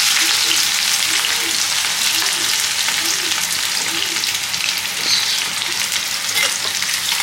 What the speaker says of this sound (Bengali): একদম তেল গরম হয়ে গেছে, এবার আমি এতে পেঁয়াজ দিয়ে দিচ্ছি